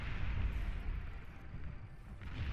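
Long-range artillery fire in the strategy game Beyond All Reason rumbles as a continuous low, heavy booming roar, loud and sustained throughout with no distinct separate shots.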